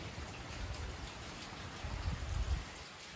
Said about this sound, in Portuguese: Minhas florzinhas tá tomando uma chuvinha aqui.